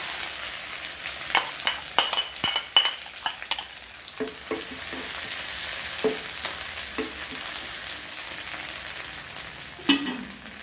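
Pounded seasoning paste stir-fried in a pan for a canned-fish basil dish: a soft steady sizzle broken by a run of sharp scraping, clanking spatula strokes, then quieter stirring and one final clatter.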